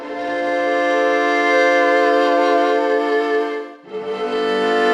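Sampled strings in flautando articulation, a soft, airy, flute-like bowed tone holding a long chord, then dipping briefly before a second sustained chord enters.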